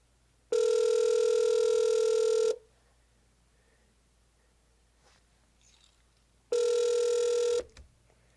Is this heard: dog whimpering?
no